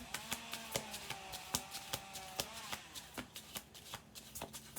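Tarot cards handled and laid one after another on a table, giving a steady series of soft, crisp slaps and flicks up close, with a person talking underneath.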